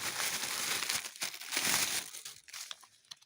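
Close, loud crinkling and rustling of a plastic packet of fertilizer being handled, in irregular bursts that thin out toward the end.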